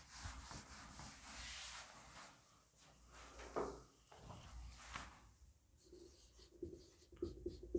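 Marker or chalk writing on a board during a Hindi-medium maths lecture on angles, with steady scratchy strokes rising and falling at close range, no voice over it.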